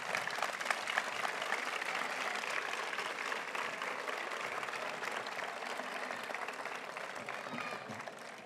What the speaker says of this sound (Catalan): Un aplaudiment per a tots i per a totes